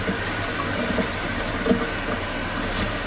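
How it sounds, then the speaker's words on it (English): A Norwex mop pad is rinsed under running water. A steady, full stream of water splashes close by without pause, with no voice over it. "rinse it again"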